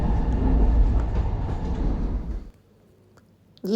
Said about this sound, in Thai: โดยรถไฟค่ะ รถไฟ